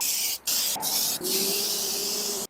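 An aerosol can sprays primer coat onto an OEM Honda Integra strut brace, giving a loud, close, steady hiss that breaks off briefly three times before running continuously to the end.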